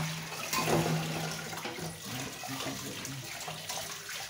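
Running water splashes steadily as something is rinsed under a tap, with a faint low hum underneath and no talking.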